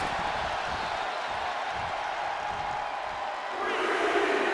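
A capacity arena crowd at a televised wrestling match roaring and cheering in a dense, continuous wash of noise, swelling slightly louder toward the end, with no clear single voices standing out.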